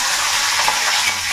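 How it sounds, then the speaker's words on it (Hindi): Tadka tempering sizzles in a hot pan while kundru bhujia is being cooked, a steady close hiss with faint stirring scrapes throughout. "और ये लगेगा इसका तड़का"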